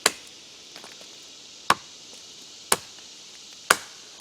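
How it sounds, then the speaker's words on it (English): A survival knife strikes a wooden stick in four sharp, isolated chops spaced about a second apart, close and crisp against a quiet background. "Now as far as chopping, let's start out small just to see how the stick holds up"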